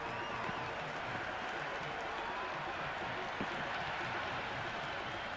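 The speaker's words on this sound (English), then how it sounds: "The crowd are on the edge of their seats." Stadium crowd noise from the cricket video game Cricket 26 during a Pakistan versus South Africa T20 World Cup warm-up match, a steady dense roar of cheering and clapping that runs throughout.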